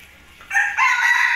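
A rooster crows close by, a single loud call that swells and holds steady to the end, with a quiet backdrop on an Indonesian home lot in late afternoon.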